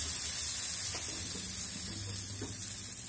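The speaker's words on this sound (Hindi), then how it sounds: "लहसुन और सरसों को बहुत अच्छी तरह से भूनना है" Garlic and mustard seeds fry in hot oil with a steady, close hiss, joined by a few soft stirring scrapes and light clinks in the pan, and no talking.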